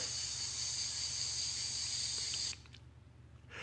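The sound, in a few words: cicada sound effect in review video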